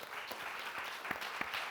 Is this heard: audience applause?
yes